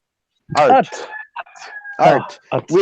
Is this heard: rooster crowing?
yes